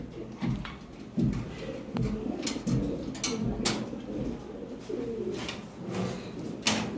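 Lahori pigeons on a farm give low soft coos in irregular bursts, close by, with scattered sharp knocks and clatter among them and no speech.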